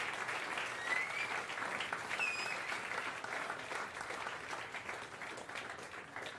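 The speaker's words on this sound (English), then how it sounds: "So give the American Pianist Association a great round of applause." An audience at a jazz club applauds in a steady, fairly quiet wash of clapping that keeps going from start to finish, with a couple of faint whistles near the beginning.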